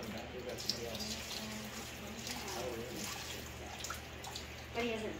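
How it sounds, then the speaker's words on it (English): Water poured out of a glass canning jar into a kitchen sink, a continuous splashing trickle lasting several seconds with a slightly stronger gush near the end. "We're going to dump out the water."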